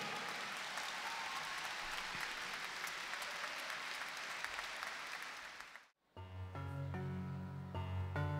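A concert audience gives sustained, dense applause for an orchestra and its musicians, then the clapping cuts off abruptly and the orchestra begins playing sustained tonal music.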